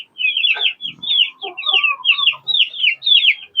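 Chickens in a backyard coop give a steady run of high, chirpy clucks and calls, close and fairly loud, with a few low murmurs in between.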